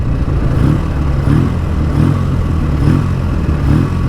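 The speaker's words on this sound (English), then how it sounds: "If I just blip the throttle" A BSA Endeavour motorcycle engine idling close by with a lumpy, throbbing beat, its note swelling briefly in a few short throttle blips, with no talking.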